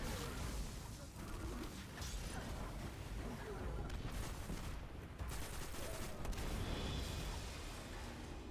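Rapid gunfire and rocket launcher blasts from the video game Destiny 2 form a dense, continuous barrage of shots and booms, with a person talking over the combat.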